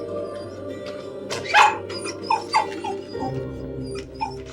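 A dog whines and yelps in short, high-pitched bursts, several soft whimpers spread across the clip, close by over a quiet background.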